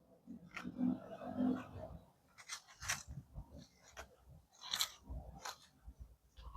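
Scissors snipping lemon balm stems in a garden, several crisp, separate cuts spaced irregularly over a few seconds, close and fairly quiet, with rustling leaves between them.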